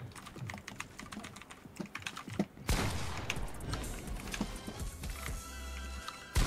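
Rapid bursts of gunfire from a 1v1 creative match in an Unreal-style shooter game, crackling in quick volleys over clacking keyboard typing, with a denser, louder stretch of shots in the second half.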